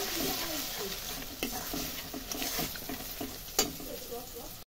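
Bengali-style brinjal masala in a pan sizzles under repeated stirring strokes, a fairly quiet frying hiss broken by short scraping bursts, then cutting off abruptly.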